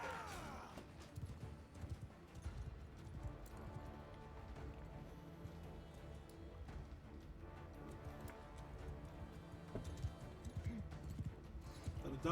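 Horse hooves clatter in a fast, continuous galloping patter in a video game battle, faint and low in level, with a brief whinny-like sound near the start.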